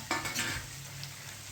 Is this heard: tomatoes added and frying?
yes